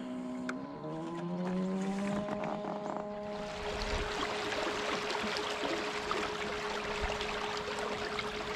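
An electric Flex Drive E trolling motor on a Blue Sky Boatworks 360 Angler runs at speed five heading upstream against a light current, a steady tonal whine that climbs in pitch, then sustained hum under broad water and wind wash.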